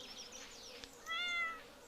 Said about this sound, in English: say hi to the cat